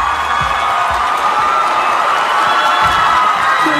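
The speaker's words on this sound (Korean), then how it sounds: "여러분 다시 한번 축하의 박수 부탁드리겠습니다" A church congregation celebrates with a loud, dense roar of clapping and cheering that stays constant throughout, with voices rising above the crowd noise.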